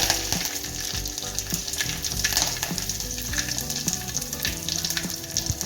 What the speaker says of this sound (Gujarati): જીરું નાખી દઈએ બાદિયા નાખી દઈએ લીમડો નાખી દઈએ